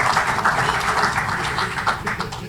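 Audience applause at a Senegalese book launch ceremony, a steady wash of many hands clapping throughout, fairly close and even in level, with no speech over it.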